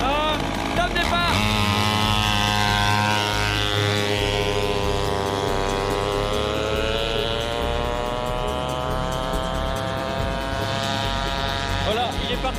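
A 49cc dirt bike accelerates hard on a speed run, its small engine whining as the pitch climbs steadily for several seconds. A voice talks over the buzzing motor.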